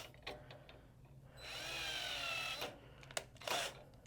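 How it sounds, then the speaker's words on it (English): A power drill whirs steadily for about a second while tightening a screw during assembly of a Juki NA-11 industrial sewing machine, then stops; a few short clicks and brief mechanical bursts follow, close by with no talking. "Use my drill to tighten this down."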